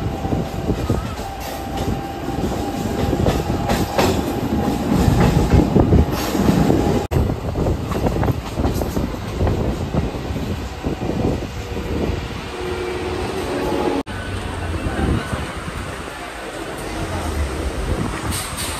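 A Howrah–Digha local train crosses the Kolaghat bridge, its wheels and carriages rumbling and rattling loudly and continuously from on board, with a couple of sharp clacks along the way.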